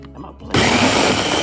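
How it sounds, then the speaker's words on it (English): A blender starts abruptly and whirs loudly as it mixes oatmeal cookie dough with vanilla, baking powder and allspice, running steadily after a short stretch of quieter background. "I'm gonna blend it."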